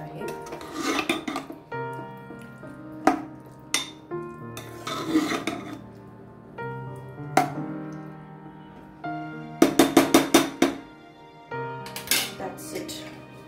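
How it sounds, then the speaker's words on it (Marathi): Chicken yakhni pulao ingredients and plenty of yogurt are stirred in a pot, bursts of spoon scraping and metallic clinks separated by pauses, over quiet background music. "आता छान मस्तपैकी मिक्स करून घ्यायचं आहे"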